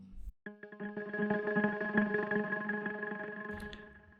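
An arpeggiated synth in Bitwig plays a rapid run of bright, pulsing notes drenched in chorus and echo, rising in level before cutting off, for organic deep house.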